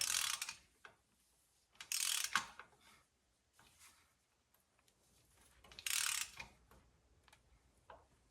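A ratchet wrench tightens a 24 mm bolt against a crush washer on the rear wheel bearing of a third-generation Toyota 4Runner: three short bursts of rapid ratcheting clicks, close and crisp, separated by quiet pauses.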